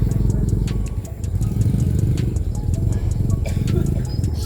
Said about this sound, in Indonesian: Oke, ada motor lewat.